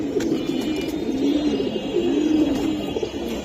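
Pigeons coo in soft, low, repeated calls, close by, with no talking.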